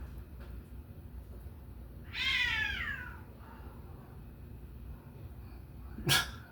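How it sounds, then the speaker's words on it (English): A single drawn-out cat meow rises and falls from a short distance outside a door, followed later by a brief sharp sneeze-like burst against faint background hum. "Some cats by my door."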